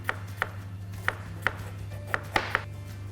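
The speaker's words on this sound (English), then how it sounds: "And then I chop it long." A knife chops a potato lengthwise on a cutting board, giving about seven sharp, close knocks at an uneven pace against a low steady hum.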